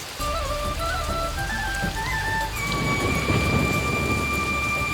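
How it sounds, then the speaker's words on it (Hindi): Heavy rain pours in a dense, loud roar while thunder rumbles low beneath it, swelling in the second half; sustained tonal notes, like a melody, run over the storm throughout. "इतनी तेज बारिश में साईं बाबा कहाँ होंगे पता नहीं।"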